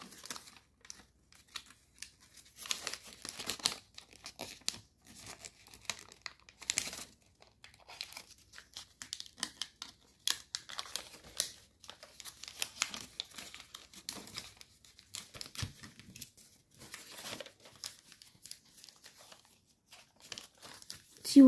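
An Electrobird EW paper origami model being pushed and folded by hand, giving close, continuous crinkling and rustling of paper with sharp crackles throughout.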